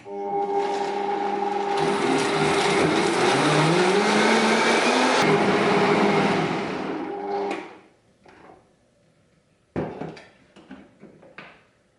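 A countertop blender whirs loudly at high speed mixing a golden milk drink for about seven seconds, its motor pitch shifting as it runs, then winds down and is followed by a few clunks and clatters.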